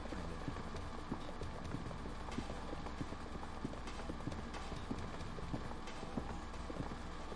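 Footsteps in the video game Zero Escape 999, timed like galloping hooves, a quiet, steady run of rapid clip-clop beats over a faint background hum.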